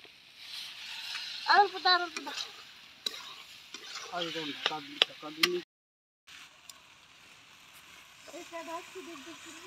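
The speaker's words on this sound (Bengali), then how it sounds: "চিকেনের মশলা কষছে, চিকেন রান্না হবে" Chicken masala stir-fried in a pan outdoors, with a steady sizzle and scraping stir strokes running throughout, while voices talk over it for most of the stretch.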